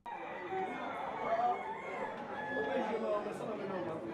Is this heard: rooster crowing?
yes